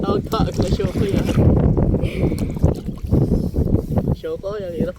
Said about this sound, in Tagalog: ang hirap magsagwan